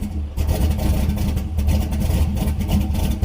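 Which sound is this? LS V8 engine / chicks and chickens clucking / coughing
LS V8 engine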